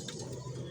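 Large pigeons cooing faintly, a low soft murmur held briefly under a quiet background.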